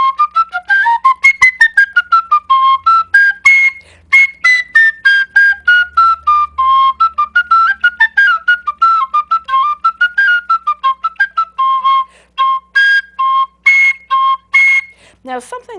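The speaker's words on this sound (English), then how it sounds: "I'm doing it on the penny whistles" A penny whistle plays a lively melody of quick, separately tongued notes that rise and fall, loud and close, with no voices over it.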